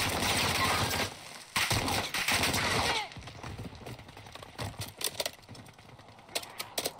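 Gunfire from a weapon in Warzone 2 on Ashika Island: rapid bursts of automatic shots crackle in quick strings, loud at first, then sparser, fainter volleys with short pauses between them.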